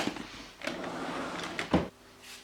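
A makeup storage drawer slides open with a rolling scrape, followed by a sharper bump as it reaches its stop, close and clear with no talk.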